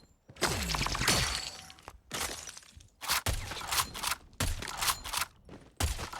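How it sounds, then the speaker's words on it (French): Bullet impacts from the Tundra gun in a video game: bursts of sharp, crunchy shattering hits in rapid clusters separated by brief gaps, loud and close, with no speech. "L'impact des balles sur cette arme, je trouve qu'il est sublime."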